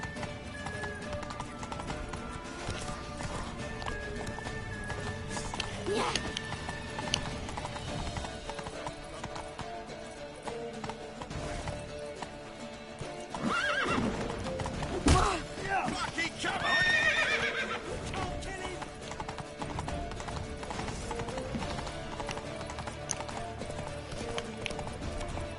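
Horse hooves clip-clopping at a gallop with a neigh midway, from the Witcher 3 Wild Hunt video game on PS5, set under music and action sounds with a louder burst around the middle.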